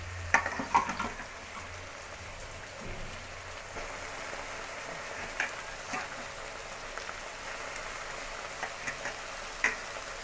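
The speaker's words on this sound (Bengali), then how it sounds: "মেথি শাক ভাজবো, এর মধ্যে মেথি শাকটা একটা করে দিয়ে দেবো।" Fenugreek greens fry in a pan, a soft, low continuous sizzle with occasional faint clicks and taps, fairly quiet and without speech.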